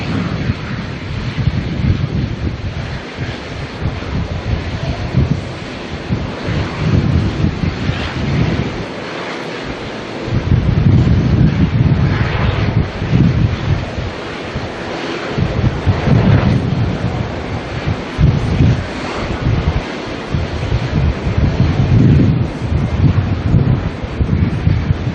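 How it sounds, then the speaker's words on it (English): Strong wind at Auckland Airport roars into the microphone as loud, continuous buffeting, rising and falling in gusts with deep rumbling and no speech. "this wind is incredible"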